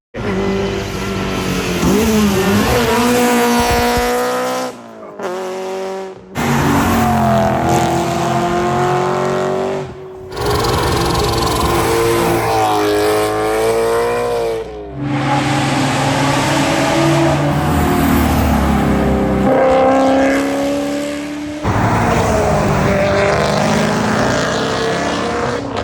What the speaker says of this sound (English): Just get a couple of cars flying by.